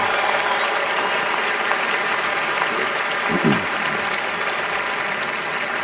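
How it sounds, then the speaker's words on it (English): Audience applause at the Green Canyon High School graduation ceremony, a sustained, even field of many people clapping, moderately loud and a little distant, with faint voices and a brief low murmur partway through. "give them another round of applause"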